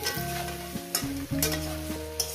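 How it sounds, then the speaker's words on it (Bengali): Vegetables for a rohu fish head and rattan leaf chachchari fry in a pan, a close sizzle under a sustained tonal hum, with several sharp scraping stir strokes at irregular intervals. "মিনিট 5 ধরে আমি এটাকে সবজিটাকে সুন্দর করে ভেজে নেব"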